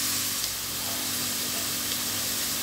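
Potatoes fry in a pan of hot oil during cooking, making a steady, even sizzle that carries on without a break. No one speaks.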